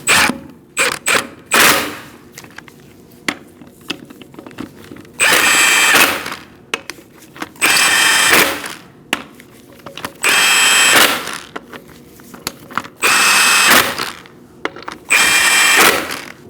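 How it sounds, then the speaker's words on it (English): Impact wrench running a 19mm socket onto a 2004-2012 Chevrolet Colorado 3.7L's lug nuts, with several loud, sustained bursts of hammering whir, each roughly a second long, separated by shorter clicks and handling clatter. "You're going to tighten your lug nuts in a crisscross manner using a 19mm socket."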